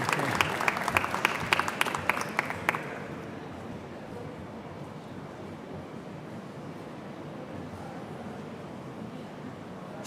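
Applause from a college convocation audience: a burst of sharp clapping for roughly the first three seconds, then a softer, diffuse wash of crowd noise that continues steadily through the rest.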